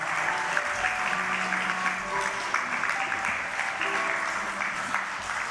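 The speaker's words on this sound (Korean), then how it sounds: "예, 크게 박수 쳐주시기 바랍니다." Steady, full applause from a church congregation during a Sunday morning worship service after a wedding blessing, a dense continuous clatter of many hands, even in level from start to finish.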